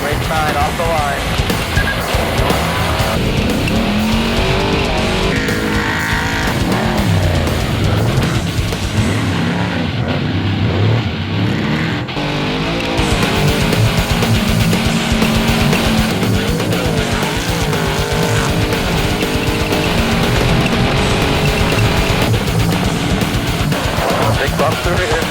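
An off-road race vehicle launches off the start line at the Mint 400 desert race, its engine roaring loud and close without letup while people talk over intercom throughout.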